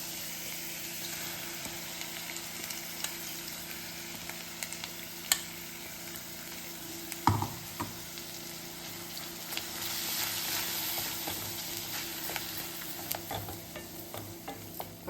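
Ground onion paste fries and sizzles in a pan for a Tamil-style chenna kulambu, a steady soft hiss with occasional spoon stirs and scrapes, including one sharper knock midway.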